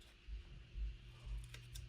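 Scissors snip through planner paper, a couple of quick, faint cuts close by in an otherwise quiet room.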